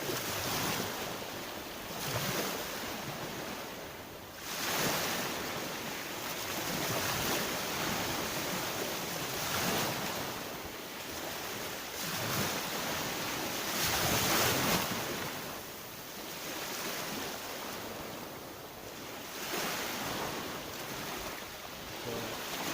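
Waves break on the shore at sunset in Lazarevskoye, each surge rising into a broad, washing roar and then receding in a slow repeating rhythm several seconds apart, steady and fairly near, with light wind and no voices.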